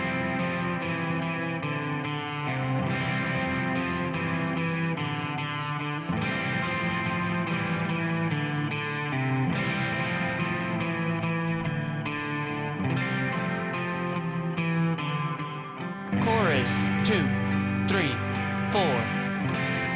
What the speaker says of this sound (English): I like using this clone drive here, and it's modeled after that Klon pedal,